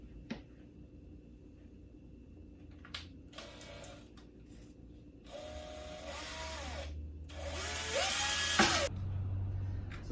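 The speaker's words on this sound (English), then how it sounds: "So plastic drilled easy." A power drill boring through the plastic of a wood-rimmed steering wheel during restoration, giving a few short high whining bursts that rise in pitch, close and fairly loud, with pauses between runs.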